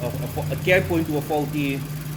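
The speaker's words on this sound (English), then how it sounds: "the car is idling much more smoother right now with the PCV eliminated." A 2.0 TFSI VW GTI engine idles with a steady low hum and even rhythm after its PCV valve was eliminated, while someone talks over it.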